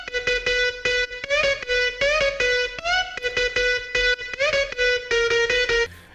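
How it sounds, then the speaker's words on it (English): Bright synth lead in a future bass drop, run through a boutique-style guitar amp saturation preset and room reverb, plays a rhythmic sequence of stacked chord stabs with pitch bends, gritty and distorted, loud and alone. "Then I use Fab Filter Saturn and preset from guitar amps."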